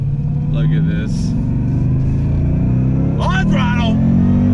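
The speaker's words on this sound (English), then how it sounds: "I love the popping and the banging coming from that special Borla tune exhaust for this Shelby" A Shelby Super Snake Mustang with a supercharged engine and a Borla exhaust rumbles steadily, swelling slightly toward the end, while someone talks over it.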